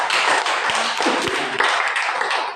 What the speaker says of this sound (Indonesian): Kita tepuk tangan dulu untuk mereka dua.